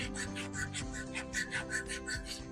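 Hand sanding with a Würth abrasive roll, a rhythmic back-and-forth rasping of about a dozen quick, even strokes, close and moderately quiet, with no voices.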